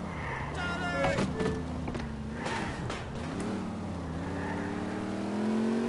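Car driving in GTA IV: a continuous engine drone with rising and falling revs throughout, with a voice talking over it at moments.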